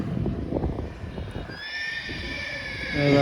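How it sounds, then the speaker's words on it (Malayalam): A horse neighs in a rural paddy-farming area of Uttar Pradesh, a clear rising whinny near the end after a stretch of low rustling and muffled outdoor noise. "കുതിര കുതിര കുതിരയൊക്കെ ഉണ്ട്"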